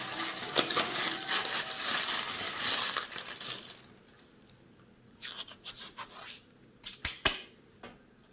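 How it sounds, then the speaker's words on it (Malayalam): Dried fenugreek leaves (kasuri methi) crushed by hand for a fried chicken dish: a dense, dry crinkling rub for about four seconds, then a few short crumbling bursts after a pause, close and fairly quiet. "എടുത്തൊന്ന് നന്നായിട്ട് പൊടിച്ചിട്ട് ഇങ്ങോട്ടിട്ട് കൊടുക്കാം."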